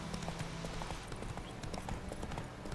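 Hooves clip-clop in a rapid, steady galloping rhythm as a horse is ridden in The Witcher 3: Wild Hunt, close and continuous over busy game ambience.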